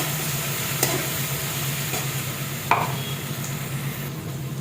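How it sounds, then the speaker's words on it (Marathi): Green chillies frying in hot oil with potatoes for sabudana khichdi, a steady soft sizzle with a few sharp spatula scrapes and clicks as they are stirred, fairly quiet and without talk. "हिरवी मिरची टाकून आपल्याला छान परतून घ्यायचं।"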